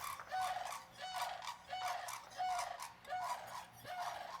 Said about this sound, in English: Those are our local sandhill cranes.